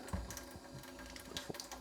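A Kangen water ionizer machine dispenses split water into two streams in a kitchen, a soft trickle with small clicks and splashes as the flow and containers shift, quiet and close.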